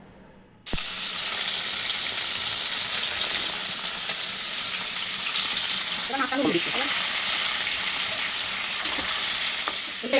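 Prawns coated in salt and turmeric fry in a wok with a loud, steady sizzle that starts abruptly and holds for ten seconds, with a few clinks of stirring midway.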